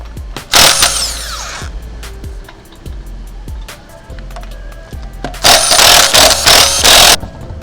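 A tire comes off a 2021-2025 Chevrolet Suburban with a 1/2-inch impact gun: two loud, close whirring bursts bracket a stretch of sharp metallic clicks and knocks from hand tools.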